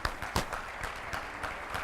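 A brief burst of scattered, uneven clapping from an audience at a keynote speech, close and fairly soft, with a few sharper claps standing out.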